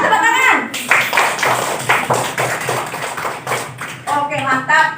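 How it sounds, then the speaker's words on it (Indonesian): Schoolchildren in a classroom clap together for a few seconds, a rapid patter of many small hands, with a teacher's voice briefly heard at the start and again as the clapping dies away. "Kasih tepuk tangan"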